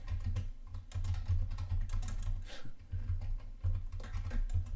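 Computer keyboard keys clatter in a steady, busy run of typing as code is entered, close and fairly quiet, with brief pauses between bursts and no voices.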